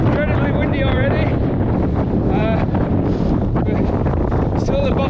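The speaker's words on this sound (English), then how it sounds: "It's incredibly windy already." Strong wind roars across a Lake District mountainside at the foot of Clough Head, buffeting the microphone in a loud continuous rumble, with voices faintly audible through the gusts.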